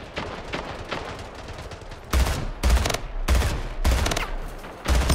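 Bursts of rapid automatic gunfire in the Splitgate arena shooter, loud and close, arriving in several sharp clusters over steady game background noise with no talking.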